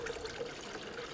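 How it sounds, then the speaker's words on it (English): Coolant in a 50-50 mix poured through a funnel into the cooling system of a 2004-2009 Audi A4, a steady soft liquid trickle running throughout, close and fairly quiet, with no voices. "You can use a funnel, pour it in."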